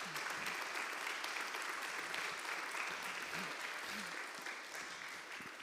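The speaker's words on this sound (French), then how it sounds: "bravo, on peut l'applaudir" Sustained applause from an audience gathered for a talk about greening the forecourt of Notre-Dame de Paris, a steady dense patter of many hands heard from a distance, fairly quiet and gradually tapering near the end.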